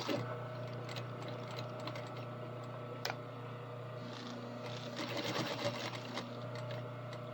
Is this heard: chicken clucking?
no